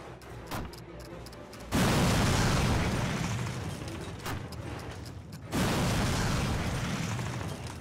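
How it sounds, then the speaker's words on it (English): Two huge video game explosions in Call of Duty burst in sequence, each a sudden loud boom followed by a long roaring rumble that slowly fades. "Dude, this is gonna be a big explosion."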